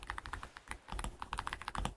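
Rapid clicking of a computer keyboard, close and crisp, with keystrokes in quick irregular bursts and a brief pause in the middle, no voices.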